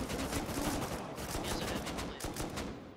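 Gunfire during a raid in the survival video game Rust, a dense burst of rapid automatic shots with crackling reports, loud and near, firing almost continuously with a brief gap before more shots.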